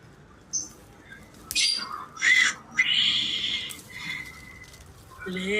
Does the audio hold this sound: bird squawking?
yes